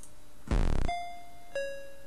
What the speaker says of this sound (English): Weird Ed is coming down now after somebody rang the doorbell